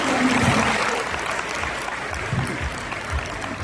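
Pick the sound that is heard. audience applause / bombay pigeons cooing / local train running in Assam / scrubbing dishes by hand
audience applause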